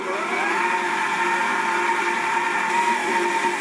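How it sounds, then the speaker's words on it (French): A Hauswirt stand mixer running slowly at speed 1 while mixing pasta dough from flour, eggs and olive oil, giving a steady, even motor whine throughout, close and without talk. "On va mélanger lentement, on va se mettre en vitesse 1."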